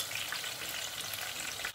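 Sliced potatoes drop into hot cooking oil in a pan, after zucchini has been fried, setting off a steady, dense sizzle that holds evenly throughout with no talk over it.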